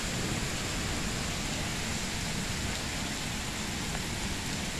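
Rain and wind from a storm sweep off the corner of a house in a steady, dense hiss that holds even and unbroken with no voices.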